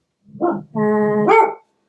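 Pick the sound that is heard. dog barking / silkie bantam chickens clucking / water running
dog barking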